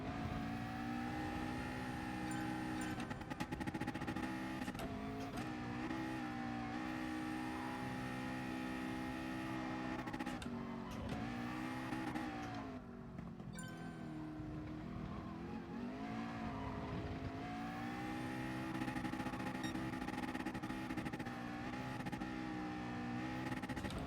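A McLaren Group 4 race car in Gran Turismo Sport drives a lap at Spa, its engine revving loudly and steadily throughout with rising and falling pitch through gear changes and corners.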